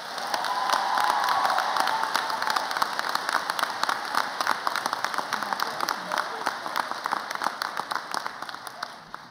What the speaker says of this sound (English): Please join me in a round of applause for this year's valedictorian